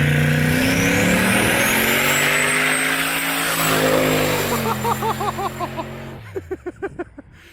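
A turbocharged truck pulls hard under about 10 pounds of boost, engine rising and turbo whine climbing, then pulsing fluttering bursts as the throttle lifts, loud and close.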